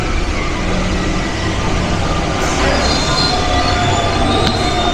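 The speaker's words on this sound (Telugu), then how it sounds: "మన ట్రైన్ వచ్చేసింది." A Paris metro train pulls into the station with loud, steady rumbling, high squealing wheels and screeching brakes that fill the platform. A faint voice is briefly audible under the noise.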